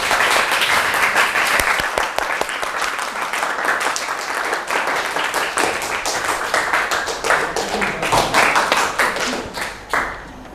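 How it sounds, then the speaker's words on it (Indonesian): A classroom of students claps for a presenting group, giving loud, close, sharp individual claps that stay brisk for several seconds before thinning out and stopping near the end. "Oke, tepuk tangan untuk kelompok 6"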